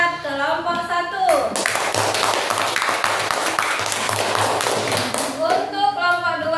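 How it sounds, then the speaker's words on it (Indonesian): Classroom applause for a group of students during a teaching practice session, a dense burst of many hands clapping that swells in, holds steadily for about four seconds, then fades as a voice speaks at either end. "Tepuk tangan buat kelompok 1."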